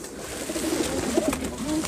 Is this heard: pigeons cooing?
yes